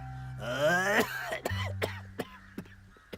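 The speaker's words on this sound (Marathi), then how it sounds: "या खोकल्याने बेजार करून टाकलाय" A person coughs repeatedly from a persistent cough: a strained, rasping opening bout followed by a string of sharp, separate coughs and throat clearing, close and fairly loud with a low hum underneath.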